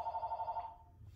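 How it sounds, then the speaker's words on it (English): A telephone rings in an office with a steady, pulsing electronic trill that fades out after about half a second, leaving quiet room tone. "Sorry about the phone ringing again."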